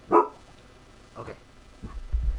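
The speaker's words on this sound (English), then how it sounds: "Oh, there she was barking." A dog in a Minecraft world barks a few short, separate times, fairly faint, with a soft low rumble near the end.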